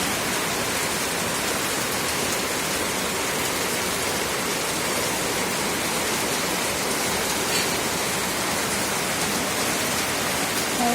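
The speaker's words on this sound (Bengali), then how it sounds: "এত বৃষ্টি," Heavy rain pours down in a dense, unbroken roar, loud and steady throughout with no voices.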